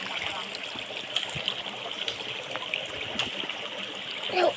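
Steady rushing and trickling water of a deep river running through a forest, with small splashes and gurgles scattered over a constant moderate flow.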